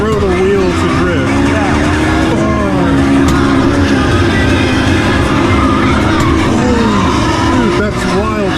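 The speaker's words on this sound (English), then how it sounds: "You have to really throw the wheel to drift." Tires squeal and an engine roars steadily as a car drifts in the Initial D arcade racing game, loud and continuous, with people talking over it.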